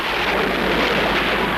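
Heavy rain pours down in a dense, steady roar, loud and unbroken throughout, with no voices over it.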